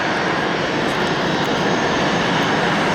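Steady, loud aircraft engine roar filling the whole stretch without a break, a broad continuous drone with no voices over it.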